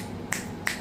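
Two crisp finger snaps from a right hand, close and sharp, spaced about a third of a second apart over quiet room noise.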